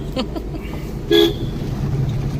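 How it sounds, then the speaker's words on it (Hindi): A single short car horn toot sounds near the middle, over a low rumble of road traffic. "उसने हॉर्न दिया"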